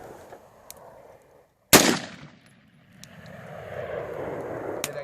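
A single sharp, loud gunshot from a Colt AR-15 rifle at an outdoor range cracks out and decays quickly, with a second fainter report near the end and a low rumble in between.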